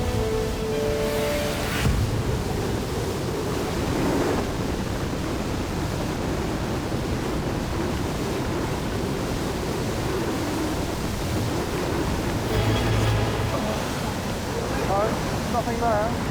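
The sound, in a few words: powerful river water surge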